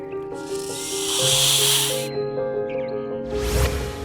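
A loud, breathy cobra hiss rises and cuts off, then returns in a second burst over sustained background music tones in a cartoon.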